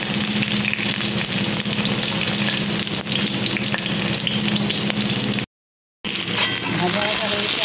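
Fish and ridge gourd fry loudly in oil in a pan, a dense, continuous close sizzle that cuts out abruptly for a moment before resuming.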